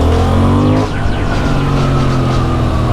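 A Honda Hornet 750 motorcycle engine revs loudly and close while riding, its raspy, saturated sporty tone climbing through the revs with a brief dip as the throttle changes.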